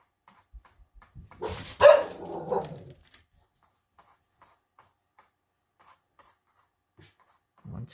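A puppy gives a short burst of barks and whimpers close by, over about a second, then only scattered faint shuffling and quiet rustles in an otherwise still room.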